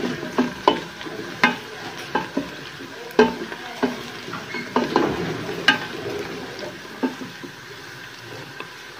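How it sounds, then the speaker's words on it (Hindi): Onions browning in hot oil in a pan for a chana dal and mutton curry: a steady soft sizzle, broken by sharp scraping clicks of a spatula stirring at irregular intervals, close up with no talking. "अब इसको भूनेंगे, प्याज को अच्छी तरीके से ब्राउन करेंगे"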